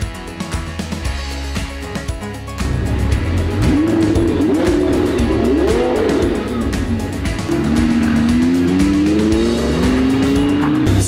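A Lamborghini-powered Batmobile's engine and exhaust rumble close by, building to a loud steady roar with rising and falling revs and tire squeal over about eleven seconds.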